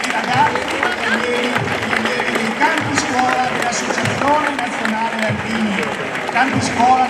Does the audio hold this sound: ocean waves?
no